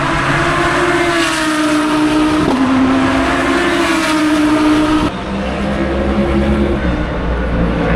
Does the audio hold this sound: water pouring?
no